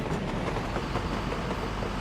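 Train rolling along a newly built rail line in the Soviet-era city-building game Workers & Resources: Soviet Republic, a steady low rumble with faint rhythmic clatter, continuous and fairly quiet throughout.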